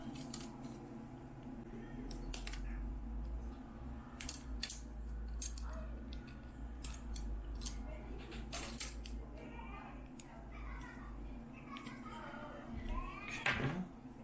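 A Tamiya Avante Mk II Mini 4WD kit's front unit part being cut from its sprue, a series of sharp close snips and clicks at irregular intervals over a low background hum.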